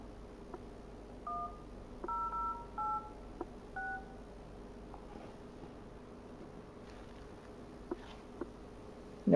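Touch-tone dialing beeps from a Pipo W6S tablet placing a phone call, five short keypad tones in an uneven sequence over a faint electrical hum, quiet and close, followed by near silence.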